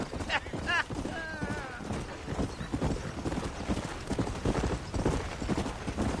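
Horse hooves clip-clop at a trot in the Western video game Red Dead Redemption, a steady rhythmic beat up close, with a brief whinny early on and a voice speaking over it.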